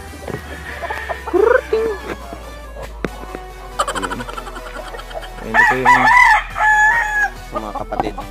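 Fighting rooster crows twice, loud and close, with clucking and scattered fowl calls in between over a low hum.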